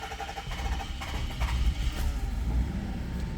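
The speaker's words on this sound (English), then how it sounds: "Well, that's idling. Pretty smooth. That's running very smooth." An Infiniti M30 engine idles smoothly nearby, a low, even rumble with a steady pulse that stays constant in level with no revving and no talking.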